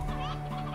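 A rooster clucks in the video game Slime Rancher, a short, faint burst of game-farm fowl sound with a steady tonal hum underneath.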